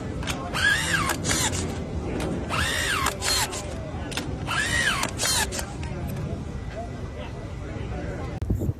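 A power driver sinks 12-inch GRK screws straight through 6x6 cedar with no pre-drilled holes, three close, loud whining bursts of about a second each, rising and falling in pitch, with quieter mechanical clatter between them.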